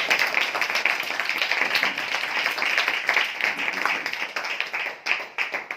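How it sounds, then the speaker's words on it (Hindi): Audience applause at a Hindi-language church gathering for spiritual growth, welcoming participants who joined online; steady clapping for several seconds that thins into scattered individual claps near the end. "हम तालियों के साथ उनका स्वागत करें"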